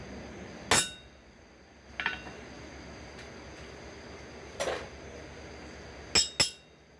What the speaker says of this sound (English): Take my center punch, center it in that dot, give it a good hit.